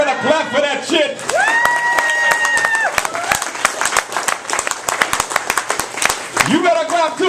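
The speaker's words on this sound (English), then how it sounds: "Y'all better clap for that shit." Comedy show audience applauding and cheering after a stand-up set at a bakery cafe comedy night, a dense crackle of many hands clapping under the comedian's continuing voice, with whoops rising near the end.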